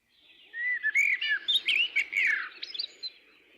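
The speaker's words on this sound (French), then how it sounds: "Le chant des oiseaux" Birdsong: a single close, clear bird sings a quick run of bright chirps and trills, ending in a few fading twitters.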